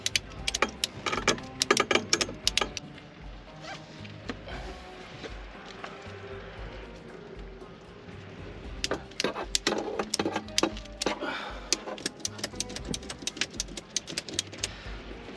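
Ratchet straps cranked tight by hand, giving bursts of quick, sharp clicks in fast runs, then a quieter pause before a second stretch of clicking, with no talking.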